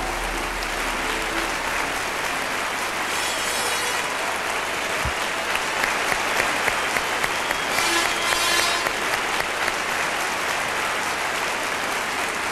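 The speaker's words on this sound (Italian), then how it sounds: "Chiara, prenditi l'applauso" Sustained audience applause for the third-place finisher at a contest during a tribute show, dense and even for the whole stretch with a brief swell midway.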